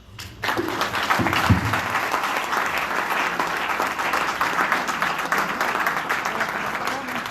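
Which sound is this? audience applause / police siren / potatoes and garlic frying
audience applause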